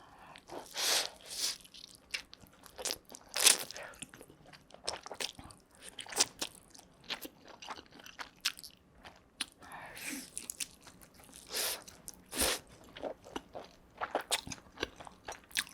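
Someone eats a Pizza School mala chicken pizza up close, with repeated crunchy bites and wet chewing in irregular bursts and quiet gaps between them.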